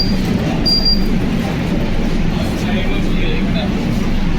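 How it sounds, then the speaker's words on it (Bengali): Inside a Kolkata metro train at Dakshineswar station, a loud steady low rumble of the moving carriage with a brief high squeal near the start, under nearby talk. "মেট্রোতে উঠে গেছি এখন"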